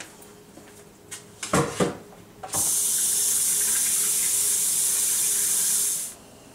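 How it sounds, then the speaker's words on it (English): Cold tap water runs steadily into a soup pot holding beef bones for Vietnamese pho, a loud, even rushing spray lasting several seconds after a few clinks and knocks of handling, then cutting off. "What I want to do is cover these beef bones now with cold water."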